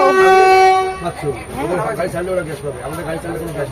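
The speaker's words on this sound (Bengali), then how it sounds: "এই যে হর্ন দিল" A loud, sustained train horn blast for about a second, then people talking nearby over a busy background.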